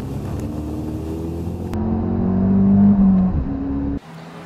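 A pre-owned Ford hot hatch accelerates hard on a race track, engine note climbing steadily in pitch and loudness, then dropping sharply at a gear change or lift-off.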